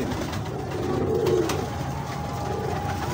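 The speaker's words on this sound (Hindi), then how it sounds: "ये नीला कमगर कबूतर है" A blue kamagar pigeon coos softly amid steady, noisy background hum, a low rolling coo swelling briefly near the middle over continuous ambient din.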